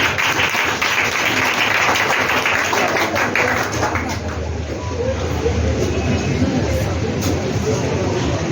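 A church congregation acclaims Jesus with sustained clapping and cheering, a dense roar that builds and then thins slightly, with voices mixed in throughout.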